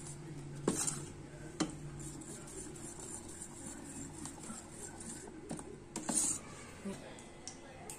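A spoon stirs idli appe batter with corn kernels, chopped green chili and salt in a bowl, giving soft scraping with a few sharper clinks against the bowl.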